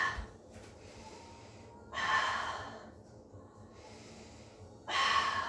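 A person breathing during a Pilates workout with a bender ball, two long, slow, audible exhales close to the microphone, separated by quieter pauses, with no talking.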